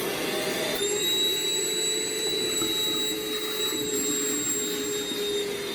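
A Hart 20v 2.5 gallon cordless shop vacuum runs steadily at close range, a loud even whoosh with a high motor whine that holds constant throughout, no voices over it.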